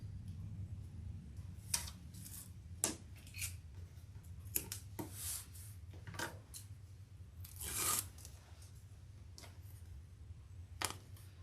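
Tape being torn off and pressed down during handbag sewing, with sharp ripping bursts scattered across the clip over a steady low hum, loudest near the middle.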